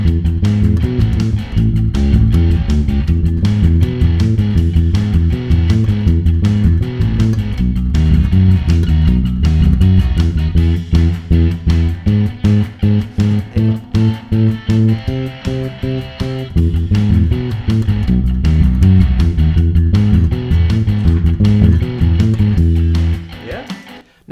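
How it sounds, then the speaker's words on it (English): Bass guitar plays the driving bass line of a song, a steady walking pattern of loud, even plucked notes running continuously for over twenty seconds. "Incredible bass line, and it sounds like this."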